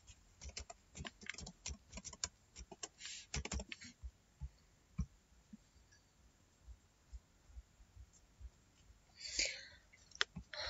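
Mouse clicks on a login page's next button, a series of sharp dry clicks scattered irregularly across the span, close and quiet, with no talking.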